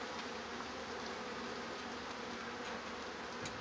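Honeybees buzzing at an open hive, a dense, continuous droning hum that stays loud and close throughout with no voices over it.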